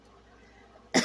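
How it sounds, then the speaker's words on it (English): A single sharp, loud cough bursts out near the end of a quiet stretch, from a person recently back from the emergency room. "you're going to hear the coughing"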